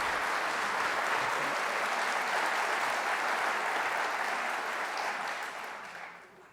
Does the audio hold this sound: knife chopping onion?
no